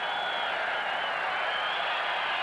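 A 55,000-strong stadium crowd at a 1994 Canada versus Brazil warm-up football match, a steady dense roar of massed voices with no breaks, filling the whole clip.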